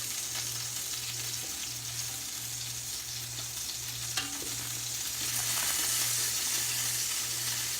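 Lemon zest frying in hot oil for a lemon parmesan cream sauce, a steady close sizzle with a constant hum underneath and an occasional brief clink from stirring.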